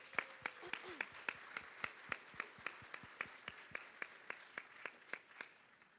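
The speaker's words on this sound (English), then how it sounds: "let's give them a round of applause" Slow, evenly spaced handclaps ring out in a large event hall during a university startup competition finals, about twenty distinct claps in a steady rhythm, crisp but at modest level, with a faint voice briefly underneath.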